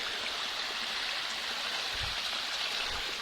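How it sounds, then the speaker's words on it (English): A little stream and small waterfall flow steadily outdoors, a soft continuous rushing wash with faint low bumps and no voices. "Beautiful little waterfall here."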